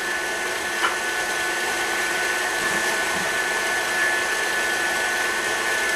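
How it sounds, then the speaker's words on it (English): A carob brownie mixture whisked steadily in a bowl, a continuous close whirring texture with no pauses, suggesting an electric mixer, alone with no talk. "We're just going to keep whisking until it's completely combined."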